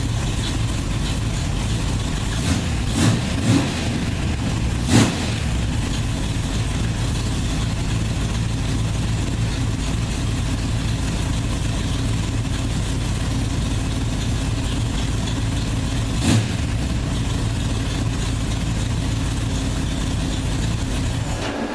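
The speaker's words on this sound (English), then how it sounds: "I'll go ahead and start it up for you." A 1973 Plymouth Roadrunner engine, started with a trigger switch, runs at a steady rough idle, with a few louder bumps near the start and one more later on. It holds close and fairly loud throughout, and nobody speaks.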